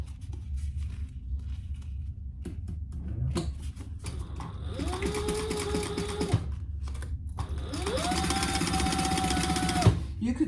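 A sewing machine basts a pouch seam at a 1/8 inch allowance, running in two steady whirring bursts, each a few seconds long, separated by a pause, fairly close and clear.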